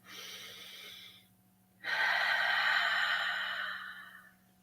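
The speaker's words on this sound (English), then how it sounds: "Take a deep breath. Breathe it in." A deep, slow breath taken close up: a steady airy inhale, a brief pause, then a longer, fuller exhale that gradually fades, with no talking.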